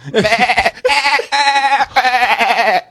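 A man imitates a goat's bleat with his voice, several wavering, nasal bleats in a row, loud and close, with short breaks between them.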